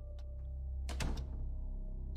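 A door in the Backrooms VR game opens with a single mechanical thunk and a short whoosh, set against a steady low electrical hum.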